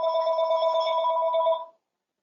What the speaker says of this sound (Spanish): No puse en silencio el teléfono, disculpe.